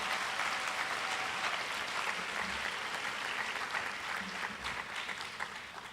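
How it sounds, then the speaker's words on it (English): A crowd claps steadily at a high school athletic banquet, the applause dense and even throughout and tapering slightly near the end. "give them a round of applause for us"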